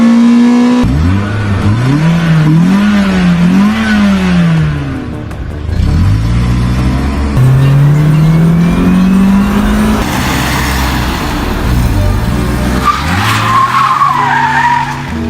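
A Toyota Celica GTS in Need for Speed, with an 8200 RPM redline, revs loudly with rising and falling engine pitch while its tires squeal and skid through continuous, intense racing noise.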